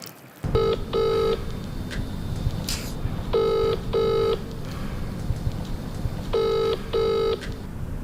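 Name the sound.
phone ringing during an unanswered call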